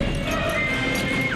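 A horse whinnies amid a violent village massacre in the film Conan the Barbarian, a shrill wavering neigh over busy background clatter and music, fairly faint and brief.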